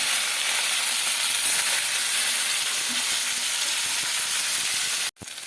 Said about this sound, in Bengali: তেলের মধ্যে দিয়ে দেবো ফুলকপিটা ফুলকপিটা একটু হালকা ভেজে নেব